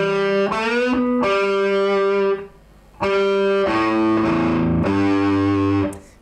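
A distorted electric guitar plays a riff with open sixth-string notes and bends, in two loud phrases separated by a short pause, close up and with no voices.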